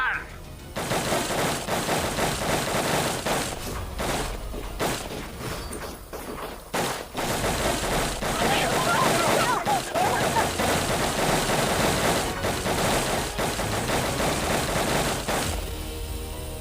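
Sustained volleys of gunfire from a police shootout in a Hindi crime drama, loud and dense with rapid bursts and cracks across the clip, with a brief lull near six seconds and voices mixed in.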